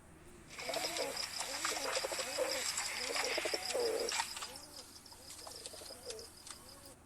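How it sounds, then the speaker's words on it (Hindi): Pigeons coo in repeated soft, throaty phrases, several birds overlapping at a moderate distance, with faint chirps in the background. "मैं आपको इन कबूतर की थोड़ी सी आवाज़ सुनवाता हूँ"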